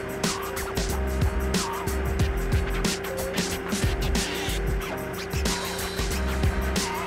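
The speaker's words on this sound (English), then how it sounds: "Tip the skip fully" A dual view site dumper's engine runs steadily while its skip is tipped fully, with a continuous mechanical drone, a sustained whine and scattered clunks close by.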